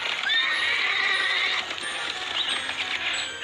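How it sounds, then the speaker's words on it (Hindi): Horses neighing in a cartoon retelling of the Ali Baba story near a large cave sealed by a boulder; loud, sustained high whinnying rings out continuously with no talking over it. "हाँ, ये घोड़ों की आवाज है।"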